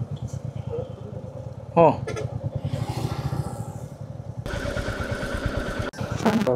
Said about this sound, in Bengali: বাইক স্টার্ট করলাম।